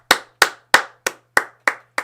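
A single person claps hands seven times in an even, steady rhythm, each clap sharp, close and distinct, with brief silence between them and a faint low hum underneath.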